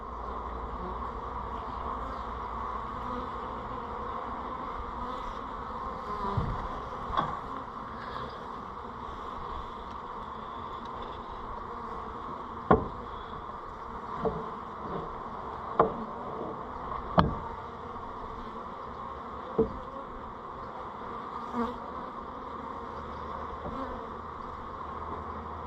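Honey bees buzz in a steady, faint drone during a hive cut-out from a box, with occasional sharp knocks and taps from the work scattered throughout.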